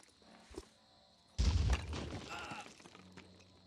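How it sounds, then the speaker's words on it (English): Grenade explosion in the video game Phoenix Point, one sudden heavy boom after a quiet moment, followed by a rumbling, crackling tail of debris that fades over the next two seconds. "Let's just chuck this grenade right about"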